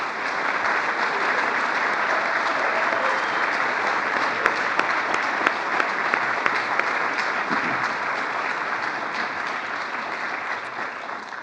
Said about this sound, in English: So please join me in giving our 2023 Praemium Imperiale Laureates another round of applause.